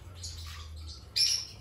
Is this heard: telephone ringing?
no